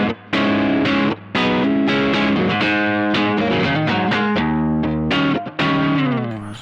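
Electric guitar with a single-coil pickup played through a Mosky Ultimate Drive mid-to-high gain distortion pedal, strummed chords and riffs ringing with crunchy overdrive, brief gaps between phrases.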